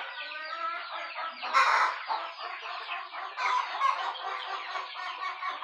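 Chickens clucking steadily on a rural chicken farm, several hens close by in a continuous chattering stream with a louder burst partway through.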